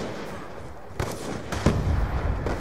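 Sniper rifle fire in the multiplayer shooter Call of Duty: Black Ops 2 comes as two or three sharp, loud shots close together over steady in-game background noise.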